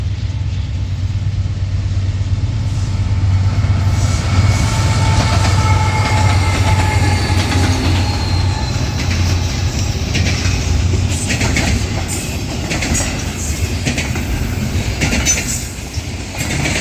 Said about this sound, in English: our next train, an S21Z, rolls by South Bend, Indiana